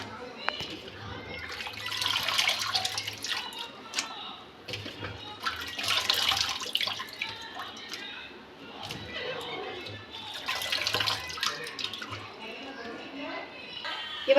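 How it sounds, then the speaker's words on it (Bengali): Potatoes are rinsed by hand in a bowl of water, with recurring bursts of sloshing and splashing at close range while a person talks over the washing. "এবার আমি আলুগুলো ধুয়ে নেব। ভালো করে ধুয়ে নিতে হবে।"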